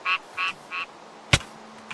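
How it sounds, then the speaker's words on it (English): Tree frog mob croaking in the Minecraft Bedrock Naturalist addon, three short bright chirping croaks in steady rhythm, then a sharp click and a faint extra chirp. "Tree frog."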